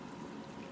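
Gravy poured over hamburger steak patties in a kitchen, a steady close liquid pour with a soft continuous trickle, brief and alone without talk.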